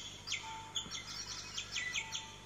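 A Tinker Bell toy bird gives a faint, thin electronic chirping when pressed, a run of quick high tweets repeating in short bursts over a quiet room.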